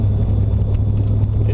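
Loud, steady low rumble of a 1992 Foxbody Mustang driving on a snowy road, heard from inside the car as a constant engine and road drone.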